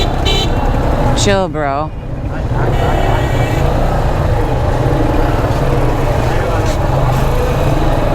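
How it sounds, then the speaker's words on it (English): Dense street traffic at Ataba market in Egypt rumbles loudly and continuously, with a short car horn toot near the start and people talking over the noise. "It causes a lot of traffic because people on the street."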